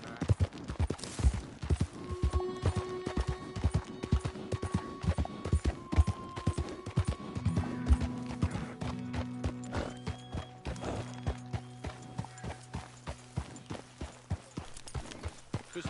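Hooves of a video game horse clip-clop in a steady, close rhythm for the full length, with a whinny partway through over soft background music.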